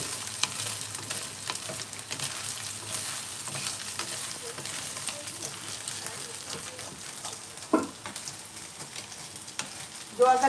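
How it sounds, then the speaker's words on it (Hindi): Soybean chunks frying in a home kitchen pan for a masala pasta, a continuous crackling sizzle with occasional stirring scrapes, close and steady, with a brief louder clatter near the end. "थोड़ी सी चिपकेगी, लेकिन फ्राई होते होते वो ठीक हो जाएगी।"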